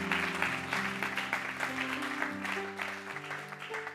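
A church congregation claps and cheers in sustained, dense applause with a sustained musical tone beneath it, loud and continuous throughout.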